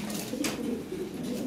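Lahori Sirazi pigeons at a farm, soft low cooing that repeats in a quick rolling pattern, faint and close, with no talking.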